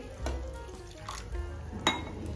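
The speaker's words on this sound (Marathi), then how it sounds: "आता इथे मी थोडंसं पाणी ऍड करणार आहे" Water poured into masala in a pan, a brief splash and liquid sizzle with light clinks of a spoon against the pan, two or three distinct hits among a low hiss.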